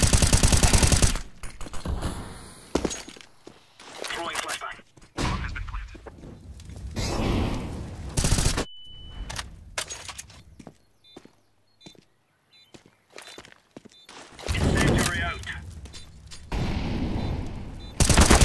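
Bursts of rapid gunfire from a Counter-Strike: Global Offensive match, loud volleys opening and closing the stretch with a quieter gap of sparse shots in between; no talking.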